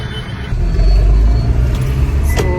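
A car drives along with a steady, close engine rumble and road noise from inside, with a few faint higher clicks and tones over the drone.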